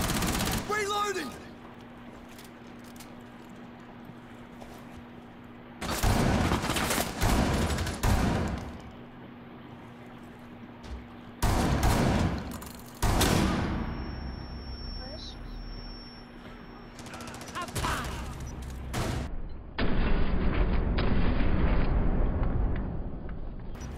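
Gunfire in the tactical shooter Rainbow Six Siege: several loud, close bursts of rapid automatic shots separated by quieter stretches, with players talking over the action.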